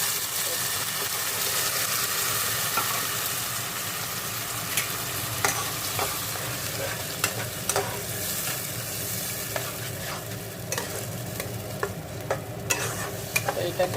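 Pointed gourd paste being stir-fried with fried onions and spices in a pan gives a steady low sizzle broken by repeated scraping and tapping of a spatula, fairly close and unhurried.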